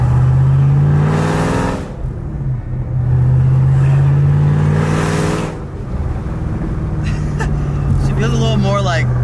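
A Ford Shelby GT500, built toward 700 wheel horsepower, revs hard through a pull. The close, loud engine note climbs in rising sweeps, eases off, then climbs again, while a person talks over it.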